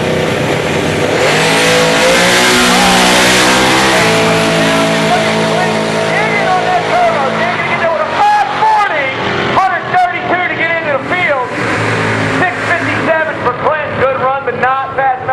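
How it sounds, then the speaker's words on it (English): A turbocharged 347 cubic inch Mustang drag race car launches and accelerates hard, loud engine roar rising in pitch and then breaking into rapid staccato bursts as it pulls away down the strip. "Taking on Clinton Smith in the 347 cubic inch turbocharged Mustang"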